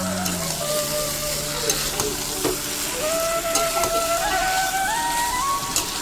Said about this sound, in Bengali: আমি আলুটা দিয়ে ওটা ভালো করে নেড়ে দেবো